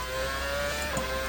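Formula 2013 V8 race car engine in a racing video game, a steady high-pitched engine whine held near the rev limiter, loud and continuous with a brief shift in pitch near the end.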